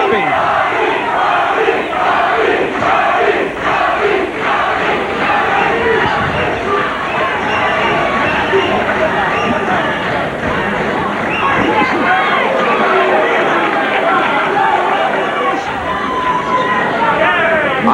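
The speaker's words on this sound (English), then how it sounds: "And a chant of Bobby." A partisan boxing crowd at a Dennis Andries vs Bobby Czyz fight chants loudly and steadily for Czyz, a dense roar of many voices with rhythmic pulses of the chant running throughout.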